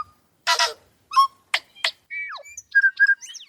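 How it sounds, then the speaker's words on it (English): A tui sings outside a bedroom window, perched on a flax flower, giving a varied run of bright whistles, chirps and clicks in short separate bursts, clear and close. "He heard a bird singing outside his window."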